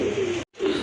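Two pigeons give a brief, close, steady low coo that breaks off for a moment and resumes.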